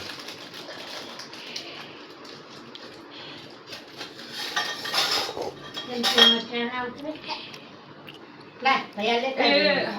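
A spoon and other cutlery clink against dishes during a meal, with scattered light metallic taps and scrapes that grow louder and busier toward the end, amid faint background chatter.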